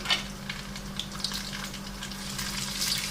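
Whole cardamom, coriander seeds, cinnamon, fennel and cumin roast in a hot pan, making a faint steady sizzle with light scattered rattles and taps as the spices are moved, with no speech.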